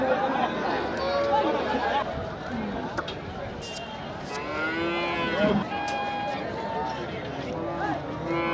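Cattle moo among the bustle of the Chettithangal cattle market, with several long, low calls rising over constant crowd chatter and people talking.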